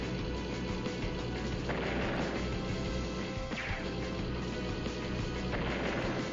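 Tanks being destroyed in Advance Wars: Days of Ruin bring repeated crashing impacts and booming hits, spaced a second or two apart over a constant loud game soundscape.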